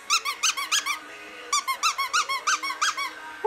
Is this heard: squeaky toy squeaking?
yes